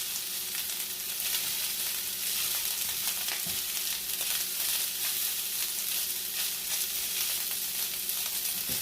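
Spam fried rice with finely minced aromatics crisping in a pan over lowered heat, giving a steady, close, even sizzle and crackle with a few brief stirring clunks and no talking.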